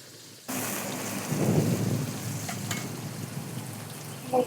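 Beef bhuna fries in a pot on a clay stove, with a sudden steady sizzle and bubbling and occasional stirring scrapes throughout.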